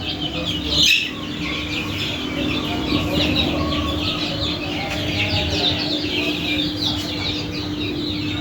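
Young desi chicken chicks peep and cluck in a busy, high-pitched flock chatter, close by and continuous, with a low hum underneath.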